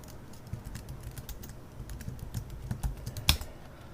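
A password is typed on a computer keyboard in a quick, uneven run of close key clicks, finishing with one sharper keystroke.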